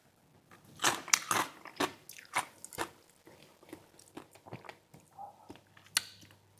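Crunchy yellow peppers are bitten and chewed close to the microphone, with several sharp crisp bites followed by quieter wet chewing, no talking.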